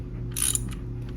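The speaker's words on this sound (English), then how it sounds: "Then we're going to get our ratchet, switch it, get her on there," A brief, close ratchet clicking as a nut is tightened on a portable chainsaw, a short burst of metallic pawl ticks over a steady low background hum.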